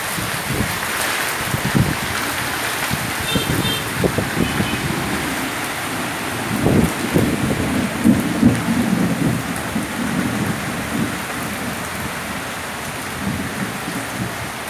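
Steady rain falls heavily, with low rolls of thunder rumbling through it several times.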